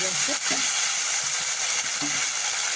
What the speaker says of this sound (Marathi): तोंडली आता घेऊ आपण मी छान करतो परतून